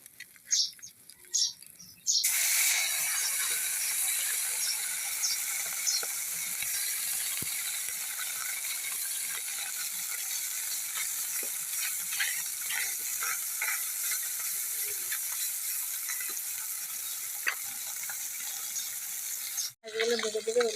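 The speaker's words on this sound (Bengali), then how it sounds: "দেখো বড় মাছ সব ভেজে নিচ্ছে" Large fish fry in hot oil in a home kitchen. A loud, even hiss starts abruptly after a couple of seconds, holds steady with small crackles, and cuts off just before the end.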